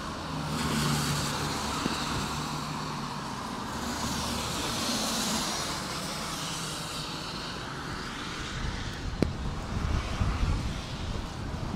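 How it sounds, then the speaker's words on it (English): Strong wind roars steadily into the microphone on a rainy city street in Norwich, Connecticut, a broad rushing buffet that swells and stays loud, with a few sharp thumps near the end. "Getting hit with a pretty nasty gust of wind right now."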